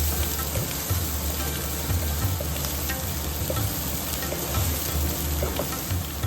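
Chopped onions sizzle steadily in hot oil over a medium flame while being stirred in a pan for egg curry, a continuous dense frying hiss with faint scraping of the spoon throughout.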